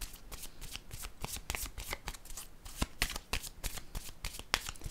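A deck of tarot cards is shuffled by hand in a steady run of crisp riffling flutters and soft slaps, close and fairly loud, with no talking.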